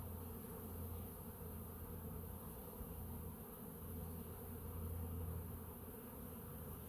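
Honey bees fly and forage busily after a few days of rain, making a steady, dense buzzing hum of many wings close by that holds for the whole stretch, with no talking.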